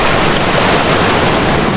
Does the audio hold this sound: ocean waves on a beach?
yes